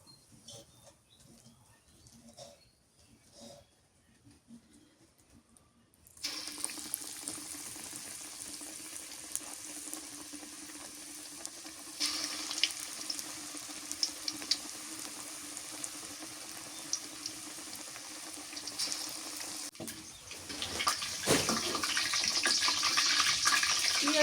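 Quiet rustling gives way to a steady sizzle of onion fritters frying in hot oil, growing louder and busier toward the end, with no voices.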